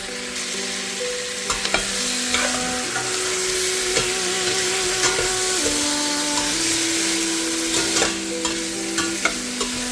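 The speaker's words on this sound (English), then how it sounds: "I cook the tomatoes until they become soft and mix well with the onions." Tomatoes and onions sizzle steadily as they fry in a pan for a home-style Punjabi curry, with repeated scraping and knocking of a utensil stirring them throughout; no talking.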